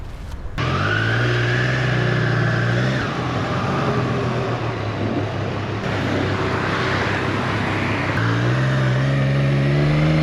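A Triumph Street Triple R motorcycle engine roaring loud and close while riding, the pitch rising and falling through gear changes, with steady wind rush throughout.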